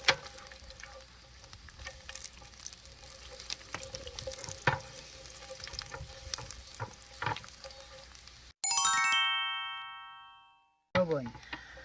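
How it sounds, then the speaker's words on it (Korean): Sliced garlic fries in a pan of grapeseed oil mixed with a little sesame oil, a steady close sizzle with occasional stirring clicks, followed by a ringing chime-like tone. "포도씨 오일과 참기름을 조금 섞은 오일에 이 마늘을 편을 썰어서 해주면 이렇게 노릇노릇하게 마늘이 볶아졌잖아요"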